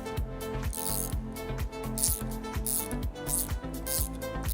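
A top nut is tightened down onto a washer on a suspension coilover spring, giving a steady run of rapid ratcheting clicks with repeated mechanical strokes, close and fairly loud, with no talking.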